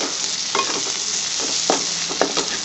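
Thinly sliced onions frying in a pan give a continuous close sizzle, with a few short scraping stirs of a utensil rising over it.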